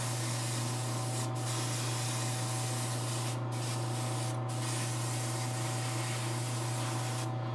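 An airbrush sprays a skin-tone base coat onto a Wonder Woman statue at about 35 PSI, a continuous close hiss with a steady compressor hum beneath and a few brief breaks.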